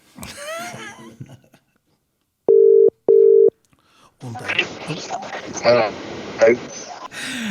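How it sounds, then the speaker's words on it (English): Two identical electronic telephone tones beep in succession after a quiet pause, followed by voices talking and laughing. "Get Mugabe on the phone."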